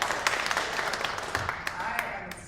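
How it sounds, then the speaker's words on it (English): A crowd gathered in cold weather gives a round of applause, a steady clatter of many hands with scattered sharper claps and low voices mixed in, easing off slightly at the end. "give yourself a round of applause"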